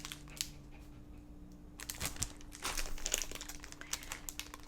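Christmas filler paper crinkles and rustles as it is unpacked from a box, starting faintly and growing into denser, closer bursts of crumpling in the second half.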